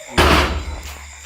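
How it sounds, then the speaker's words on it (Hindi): A door slams shut with one loud, close impact that rings briefly in a room and then decays into a quiet interior hum. "दरवाज़ा ही बंद हो गया।"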